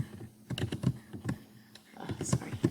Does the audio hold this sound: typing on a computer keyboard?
yes